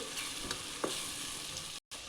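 Dal seasoned with asafoetida sizzles softly in a pan while a spoon stirs it, giving a few light scrapes over a quiet, continuous fry hiss, with a brief dropout near the end.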